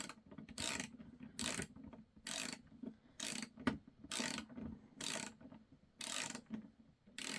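An Icon G2 1/2-inch drive, 18-inch long flex head ratchet clicks through repeated strokes on a 14 mm fastener, loud close bursts of ratcheting alternating with short pauses in a steady rhythm.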